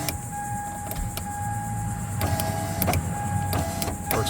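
Power window motor in a Ford SVT Contour door, run up and down on the bench after a motor assembly replacement: a steady electric whir with clicks of the switch at each reversal, close and fairly loud, with no talk.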